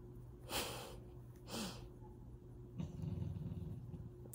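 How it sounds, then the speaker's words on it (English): Quiet breathy snorts from a sleeping dog, followed by a low rumbling growl in its sleep that pulses for over a second, close and faint. "she's actually sleep growling"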